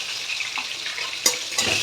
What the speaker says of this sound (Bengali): আলুগুলোকে এবার লাল লাল করে ভেজে নেব